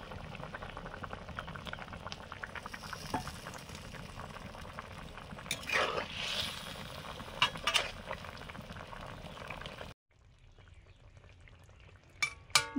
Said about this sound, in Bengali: টক ফুটে গেছে, মাছগুলো দিয়ে দিচ্ছি।